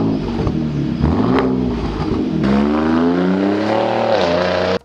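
A turbo V6 truck engine revs up and down in rising and falling tonal sweeps, loud and close, with no talk, then cuts off abruptly at the end.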